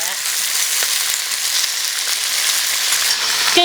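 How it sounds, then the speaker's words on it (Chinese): Fish pieces fry in hot oil in a wok over a strong flame, giving a steady, loud, continuous sizzle with no talking. "锅里加油，我们开始煎鱼啊。"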